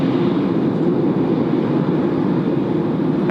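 Jet airliner taxiing out at Tokyo Haneda airport, a steady, loud broadband engine roar that holds even and continuous throughout, with no voices.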